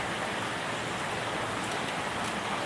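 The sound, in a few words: heavy morning rain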